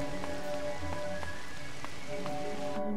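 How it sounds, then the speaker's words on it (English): Heavy rain pours down in the video game Crow Country, a dense, constant hiss with scattered drips and splashes standing out, steady and loud throughout with no talking. "it's pouring raining"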